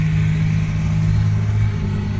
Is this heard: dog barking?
no